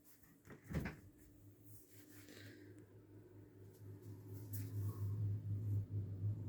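A Beko appliance door is pulled open with a single soft clunk near the start, followed by a steady low hum that grows louder; no talking.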